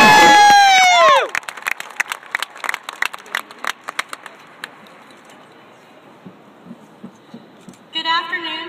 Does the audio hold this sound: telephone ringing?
no